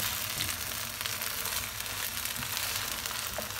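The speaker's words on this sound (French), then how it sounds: "Je mélange bien." Asparagus risotto sizzles and bubbles in a pan, a steady broadband frying hiss with faint scraping from a spatula stirring through it, continuous and close, with no voices.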